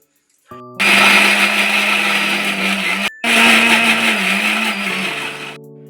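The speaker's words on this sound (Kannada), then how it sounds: "ಆರಿಸೋದಾಗಿಂದ ಇವಾಗ ಮಿಕ್ಸಿ ಹಾಕೋಬೇಕ್ರಿ." A kitchen mixer grinder whirs loudly as it grinds ingredients, starting up, running in a steady high-pitched roar, cutting out briefly for a moment, then resuming before winding down to a stop.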